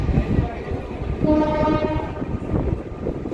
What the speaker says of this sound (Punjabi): ਦੋਸਤੋ ਇਹ ਟ੍ਰੇਨ ਜਿਹੜੀ ਹੈ ਸਾਡੀ ਇੱਥੋਂ ਤੁਰ ਪਈ ਹੈ ਜੀ